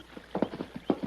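Horse hooves clip-clop in a few faint, uneven knocks, a light irregular walking rhythm heard at a distance with no talk over it.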